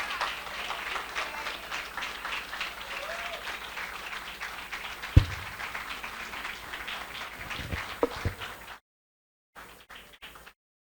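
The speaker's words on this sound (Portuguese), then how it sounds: "Ela merece todas essas palmas" An audience applauds at a tribute during an anniversary celebration at a Spiritist cultural center, with sustained steady clapping, a couple of sharp nearby knocks, and a cutoff into silence near the end.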